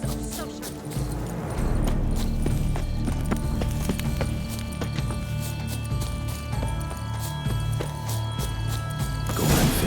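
Horse hooves clip-clopping in the Witcher 3 video game, a steady rhythmic trot close by under game music and ambience.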